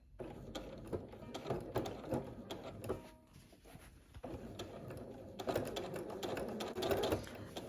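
A sewing machine stitches through quilting fabric in rapid, close mechanical bursts that pause briefly, then resume in steady, busy runs of clattering stitches.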